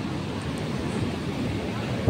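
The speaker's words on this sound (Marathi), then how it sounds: "आणि हा बघा समुद्र" Sea waves roll in at Ganpatipule in Ratnagiri, a low steady surf roar heavily buffeted by wind noise across the short stretch.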